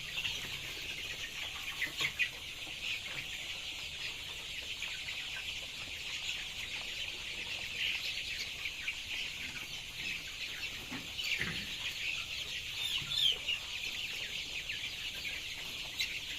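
Chickens cluck continuously in a poultry shed, a busy flock of overlapping soft calls at moderate distance with a few sharper squawks, and no talking.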